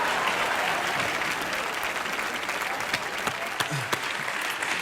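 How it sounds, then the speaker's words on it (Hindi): Dense studio audience applause on a comedy show, a continuous roar of clapping from a large crowd, steady and full throughout, with a few sharper individual claps standing out. "जोरदार तालियां दोनों के लिए।"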